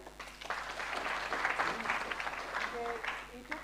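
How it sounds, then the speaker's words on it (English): Audience at a multi-sectoral research and science conference breaking into a round of applause, a swelling dense patter of clapping that holds steady for a few seconds, moderately distant in a hall. "Can we clap for them?"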